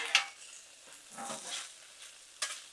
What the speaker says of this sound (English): And now we'll just give it a good mix. Mix all this up together. Let them pepperonis cook a little bit.